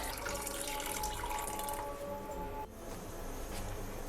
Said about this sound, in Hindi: मैं यखनी डाल रही हूँ।